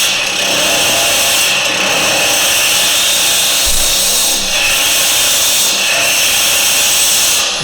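A woodturning tool cuts into a natural-edge timber vase spinning on a lathe, giving a loud, steady shearing rasp with a constant motor hum and faint swells as the cut varies.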